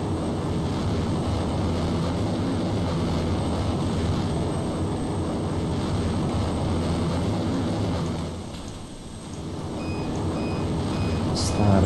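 A military airplane flies in the video game DayZ (Arma 2 mod), its engine drone a constant, dense roar with a dip near the end and faint beeping tones on top.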